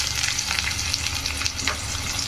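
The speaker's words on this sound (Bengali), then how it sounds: "পেঁয়াজটাকে একটু ভালো করে লাল লাল করে ভেজে নেব" Chopped onion frying with potatoes in a hot pan, a steady close sizzle with faint stirring scrapes and no voices.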